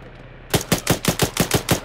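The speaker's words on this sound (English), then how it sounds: "I got frags, so I'll toss them in." Rapid burst of eight sharp, evenly spaced gunshots in a shooter video game, loud and close, starting after a half-second of quiet background; no grenade blasts stand out.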